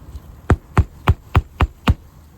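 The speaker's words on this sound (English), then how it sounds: "hit the nail and get it into the nailing zone and get it flush with the decking" A hammer drives a nail through a roof shingle into the decking, six sharp, evenly spaced strikes landing close and loud with no talk.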